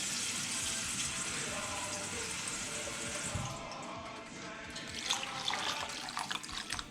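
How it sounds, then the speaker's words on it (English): Water is poured into a pot of red beans on the stove, a steady rushing splash for a few seconds that eases off, followed by faint stirring and clinks, with a voice speaking quietly. "You can just throw in some water like I'm going to do right now."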